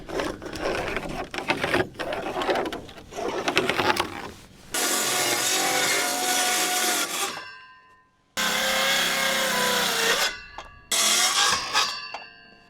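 A power tool trims the bottom of a cedar fence gate with loud sustained cutting bursts that stop and restart, each one several seconds long, preceded by rough rubbing and clattering.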